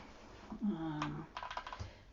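Computer keyboard typing: a few quick clicking keystrokes in bursts, close and fairly quiet, over a faint hum.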